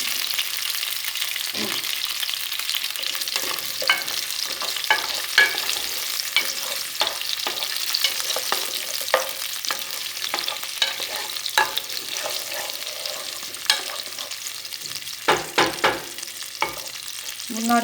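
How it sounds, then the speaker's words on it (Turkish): Onions sauté in a hot pan with a steady, close sizzle throughout, broken by repeated scraping and stirring strokes of a utensil and a few sharper clatters near the end. "Şimdi soğanlarımız kavruldu."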